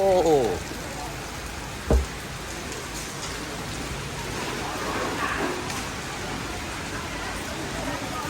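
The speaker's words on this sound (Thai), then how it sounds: "ฝนตกโอ้" Rain falls steadily outdoors in Thailand, a continuous even hiss of drops on surfaces, with a brief voice at the start and a single sharp knock near two seconds.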